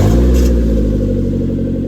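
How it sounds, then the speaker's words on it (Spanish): A Mazda car with a straight-pipe exhaust revs loudly up close, a brief, harsh engine roar that holds and then eases slightly. "Hoy vamos a enseñar cómo suena un coche a escape libre de verdad."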